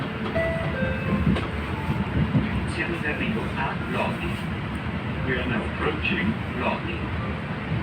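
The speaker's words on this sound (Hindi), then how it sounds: "तो अब हम चल पड़े हैं, ट्रेन हमारी चल पड़ी है।" A passenger train rolls through the Milan area of Italy, giving a steady, continuous rumble and rattle of moving carriages heard from inside, with faint voices talking beneath it.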